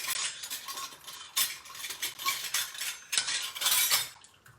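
Metal spoon scooping and scraping a heaping teaspoon of whey powder from a container, a series of close, light clinks and scrapes in uneven rhythm with no talking.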